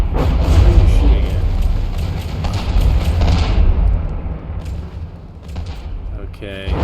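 Heavy cannon fire and shell hits from naval combat in the game From the Depths boom in a dense, rumbling barrage, with someone talking over the battle noise.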